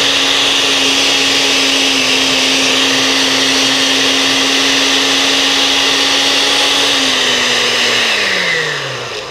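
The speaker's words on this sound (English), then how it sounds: "Put your hand firmly on the top of the blender and turn it on." A kitchen blender runs at full speed, whirring steadily as it purees garlic and basil into a sauce, a loud continuous drone that drops in pitch as it winds down near the end.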